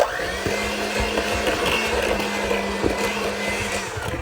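An electric mixer beats flour into a tea cake batter seasoned with nutmeg and baking powder, giving a steady, close whirring hum that runs unbroken throughout with no talking.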